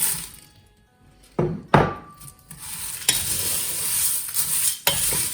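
Dry namkeen snack ingredients mixed with a spoon, making crisp rustling stirs and several sharp spoon clanks against the bowl, close and fairly loud with no talking.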